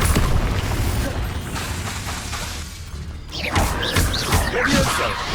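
Confringo fire spell bursting during an Acromantula fight in Hogwarts Legacy, a dense crashing blast that rumbles for a few seconds, then gives way to a second, sharper burst of crackling impacts and debris.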